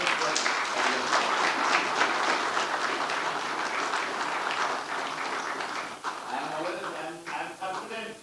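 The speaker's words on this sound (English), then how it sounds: "Please give a loud applause for" Sustained applause from a conference audience at a psychiatry meeting in Kathmandu, steady dense clapping throughout that thins slightly toward the end, with faint voices mixed in.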